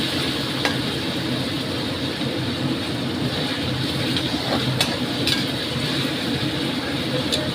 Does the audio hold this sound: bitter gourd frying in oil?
yes